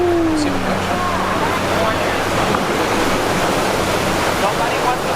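Pacific Ocean surf washing steadily into a sea cave on the Mexican Riviera, a loud continuous roar with no clear breaks, joined by a brief tonal sweep near the start.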